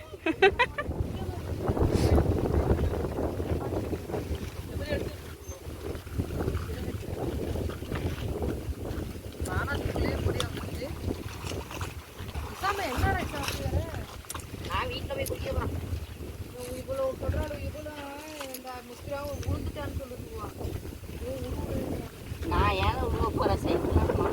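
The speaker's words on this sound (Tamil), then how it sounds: "காத்து செம்மையா இருக்குதுங்க, சூப்பரா" Steady wind rushes across open village fields, a constant broadband blowing with gusty microphone buffeting throughout, while people talk intermittently over it.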